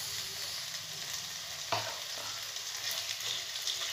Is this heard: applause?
no